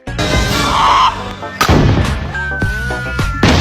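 Loud bursts of gunfire in a film crack out in quick succession over a dense, noisy background, with sharp impacts recurring throughout.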